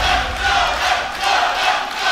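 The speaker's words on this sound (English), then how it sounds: "The crowd are getting hyped." Crowd at a fighting game tournament, the 2022 TWT Masters at The Mixup, cheering and shouting in a steady loud roar that swells and dips throughout, with no clear voices standing out.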